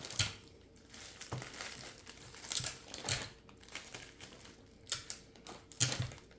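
Crinkly basket material for a Dollar Tree Easter basket being tucked and taped, a string of soft crackling rustles and sharp tape snaps at close range, irregular and fairly quiet.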